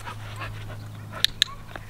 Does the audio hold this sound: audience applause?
no